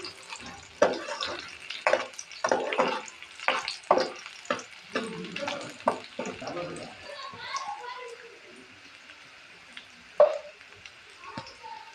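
Cumin seeds crackle and sizzle in hot oil with sharp bursts of popping, then settle into a softer fizz, close up.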